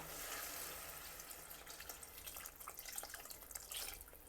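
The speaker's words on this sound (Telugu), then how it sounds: "ఇప్పుడు పులుసుకి సరిపడా నీళ్లు పోసి ఉడికించుకోవాలి" Water poured into a pan of onion pulusu to cook it, a steady close splashing and trickling rush that fades slightly toward the end, with no voices.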